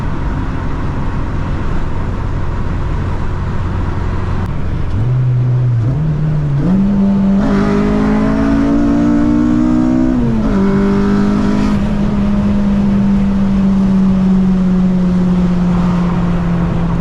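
A Honda Civic Si with a K24 engine making about 240 hp accelerates hard through repeated pulls, rising engine tones climbing through the gears, loud and close from inside the car.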